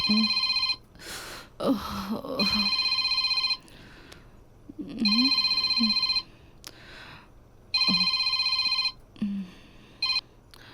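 A telephone rings in repeated electronic bursts with pauses between them, loud and close, with occasional faint breathing or small sounds in the gaps.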